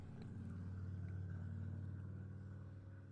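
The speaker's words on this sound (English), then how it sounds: "We have people that drive these loud cars and motorcycles" A low, steady engine rumble of a car outside, droning continuously with a faint mid-range hum, muffled and fairly quiet.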